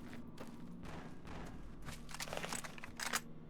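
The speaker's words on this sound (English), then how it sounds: "Are you guys hearing gunfire?" Gunfire in the Fallout: Tale of Two Wastelands video game, a run of scattered shots and bursts at moderate level over a steady background hum, growing somewhat louder toward the end.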